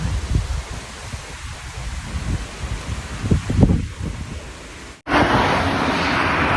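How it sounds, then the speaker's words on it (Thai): Strong wind without rain roars and rushes steadily through a forest, with rustling noise, then cuts out briefly before returning as a louder, continuous blast. "ลมแรงเนาะบ่มีฝนแต่มีลม"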